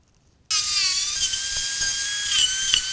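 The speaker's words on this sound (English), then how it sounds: "I'm using a Dremel tool with a rotary saw bit." Dremel rotary tool fitted with a rotary saw bit cutting into a cross-country ski's fiberglass top sheet and foam core, a steady high-pitched whine with grinding that starts abruptly and runs loud and close without a break.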